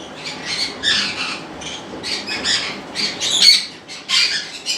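Pet parrots at a foreign-bird breeding farm squawk in loud, repeated shrill bursts that come close together and overlap, with no talking.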